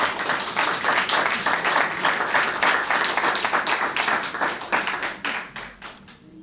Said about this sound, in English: There's also outreach workers, life coaches, violence interrupters, and service providers that need to have a round of applause for their work.